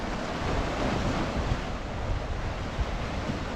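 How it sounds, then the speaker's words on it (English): Sea waves break steadily on the shore at Sant Elm, Mallorca, a continuous loud wash of surf with wind buffeting the microphone and no voices. "Some bigger waves coming now."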